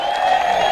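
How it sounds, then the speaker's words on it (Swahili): Crowd at a lawyer's rally in Kirinyaga county, Kenya, cheering and whooping in a dense, steady roar; individual claps are not clearly separated. "Hebu pigeni hiyo makofi vizuri"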